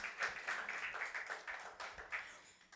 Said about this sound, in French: Acclamons pour l'interprète.